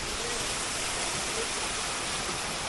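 A hidden waterfall in the Delhi NCR area roars as a steady, dense wash of falling water, continuous and fairly close, with no voices over it.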